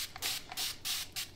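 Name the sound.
fabric starch (Mary Ellen's Best Press) sprayed from spray bottle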